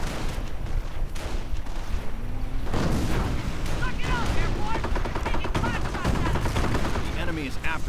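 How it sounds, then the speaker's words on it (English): Mortar and rifle fire in a World War II real-time strategy game, a dense battle soundscape of repeated sharp gunshots, bursts and booms, near and loud, under a commentator's talk. "Mortar firing in support."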